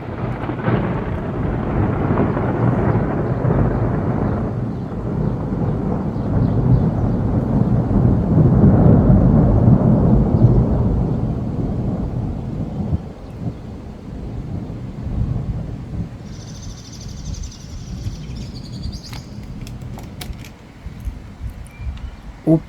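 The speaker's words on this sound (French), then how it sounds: "Il y a eu le premier coup de tonnerre là" Thunder from a thunderstorm forming over Bordeaux, a long loud low rumble rolling for about ten seconds before fading into quieter wind and outdoor background.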